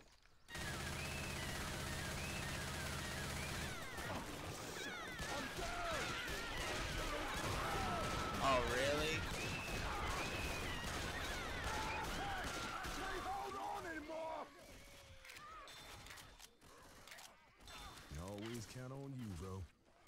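Rapid, dense gunfire in the co-op zombie shooter Left 4 Dead 2, loud bursts of automatic and shotgun fire with impacts, mixed with game noise and players talking over it.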